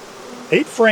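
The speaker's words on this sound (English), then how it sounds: "This box has got some bees in it." A close, steady buzz of honey bees in a hive box hums throughout, with a couple of brief louder sounds cutting in near the end.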